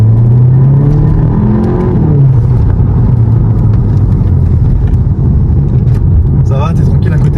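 A VW Golf 7 GTI Performance on a road test makes a loud, close engine rumble from inside the cabin, with a rising rev through the gears, while people talk over it.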